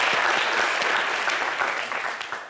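Studio audience clapping in a French-language television talk show, dense and continuous for the whole stretch, loud and close, easing slightly toward the end with no talk over it.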